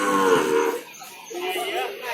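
Simmental cattle at a busy livestock market give low, drawn-out moos, one near call early on and fainter lowing later, amid crowd chatter and background voices.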